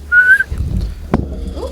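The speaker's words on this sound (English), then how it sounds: "That's because you whistled" A person whistles one short, clear note that rises slightly, then stops; low background rumble and a single sharp knock follow.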